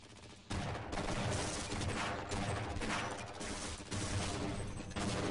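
Loud, continuous gunfire and explosive blasts from a Half-Life: Blue Shift firefight, with an AR grenade detonation among dense, sustained bursts of shots filling the whole stretch.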